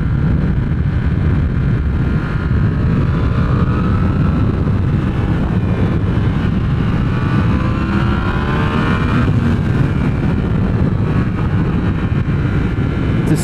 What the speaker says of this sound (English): Serious motorcycle, man.